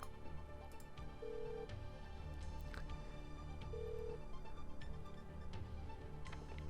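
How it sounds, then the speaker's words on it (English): Telephone ringing in the computer game Uplink, a faint electronic ring repeating twice over a steady low hum with scattered ticks, no speech. "Ringing."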